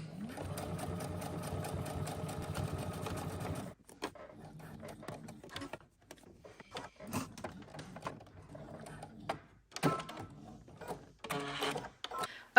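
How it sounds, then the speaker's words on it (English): A sewing machine runs in a steady whirring burst while edge stitching around a zipper on a skirt, then stops; later come short stitching spurts with clicks and handling noises, all close by. "we're going to head to the sewing machine and we're going to edge stitch around our bounding box"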